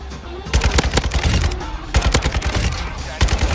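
AK-47 fire in a video game: loud, rapid bursts of automatic gunshots in quick succession with a short pause between volleys.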